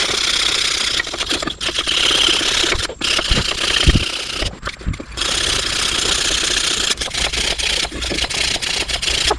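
A wire brush scrubs surface rust off front brake hardware on a 1992-2001 Toyota Camry, a loud steady scratchy rasping with brief pauses between strokes, close up and with no talk.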